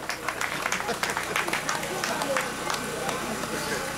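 Guests at a traditional marriage ceremony clap in quick, scattered bursts, heard close by over a background of crowd chatter and voices.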